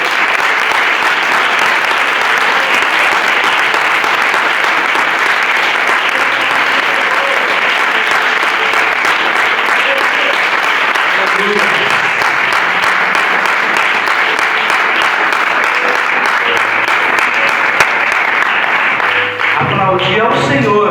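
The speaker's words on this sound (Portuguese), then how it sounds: "Vamos aplaudir a Deus pela escolha que Ele fez por nós" A church congregation celebrating its pastor's anniversary applauds loudly and continuously, a thick, sustained roar of clapping that runs the whole stretch before breaking up near the end as a voice cuts in.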